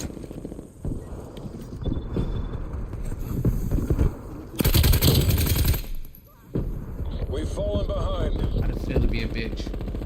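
Video game gunfire in rapid bursts, mixed with heavy clattering action sounds and a loud dense blast in the middle, under a voice talking.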